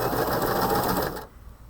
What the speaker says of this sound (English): Buttons sewn on by sewing machine.